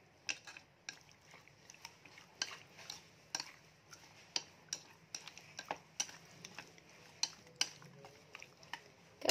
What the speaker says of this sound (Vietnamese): mình sẽ trộn đều cái phần cá này lên